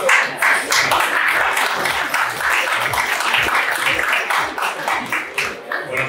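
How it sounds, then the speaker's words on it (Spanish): An audience applauds steadily for several seconds at the opening of a Ford dealership in Quito, a dense patter of many hands clapping at once. "Por favor, si lo recibimos con un fuerte aplauso."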